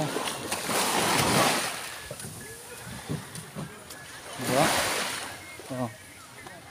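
Waves surge and splash in two loud swells, with water sloshing and brief voices in between.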